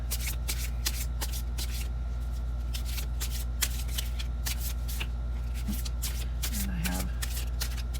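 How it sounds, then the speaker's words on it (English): Tarot cards are hand shuffled in quick repeated riffling bursts, close and crisp, with faint background tone and a brief low voice-like sound near the end. "I will hand shuffle these."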